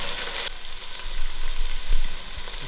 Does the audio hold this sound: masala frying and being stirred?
yes